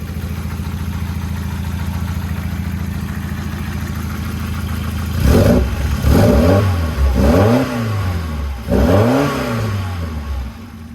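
A worn Volvo car with oil leaks idles steadily, then revs four times in quick succession, each rise and fall in engine pitch clear and close, with no talk over it.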